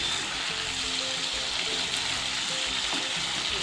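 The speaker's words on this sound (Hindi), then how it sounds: "ये देखिए फ्रेंड, हमारी सब्जी पक रही है" Spring onion and chana dal sabzi sizzling steadily in a pan, a continuous close frying hiss with faint bubbling and no talk.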